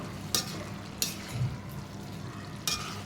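A mixed-vegetable curry is sautéed in a pan: a soft, steady frying hiss punctuated by three sharp spatula scrapes against the metal, fairly faint overall.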